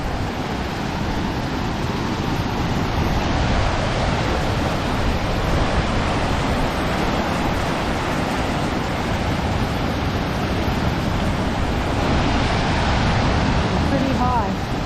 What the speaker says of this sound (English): I love these waterfalls.